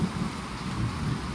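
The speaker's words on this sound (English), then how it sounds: "Now, since the rain's coming down" Steady rain comes down outside a large suburban home with a big grassy yard, a continuous even hiss with low rumbling underneath and no talking.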